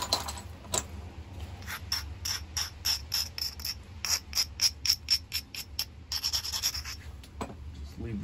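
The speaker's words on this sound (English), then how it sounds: "Take another one after some more pressure flaking." Stone being pressure flaked with a hand pressure flaker, heard as a close series of short scratchy clicks and snaps in quick irregular bursts, with faint background hum and no talk.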